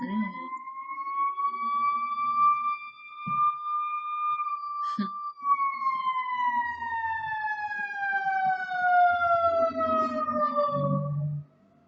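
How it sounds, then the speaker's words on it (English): A wailing siren sweeps up and down, loud and close, then slowly drops in pitch as it passes and moves away, with faint background noise underneath. "I'm gonna let the siren go past again."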